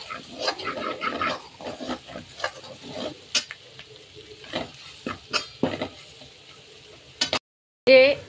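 A pav bhaji masala mixture with black masala and mutton masala is sautéed in a kadhai, with repeated scraping and clanking of a spatula over a soft sizzle and a sharp metallic knock near the end.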